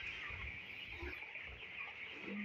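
Young chickens on a small poultry farm, a faint crowd of soft clucks and chirps over a steady fan-like hum.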